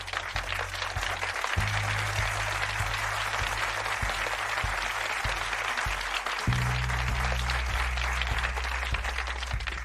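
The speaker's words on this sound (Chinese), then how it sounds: "鼓掌！" Sustained applause from an audience fills the room, a dense steady wash of many hands clapping, with low tonal background music underneath and no voices.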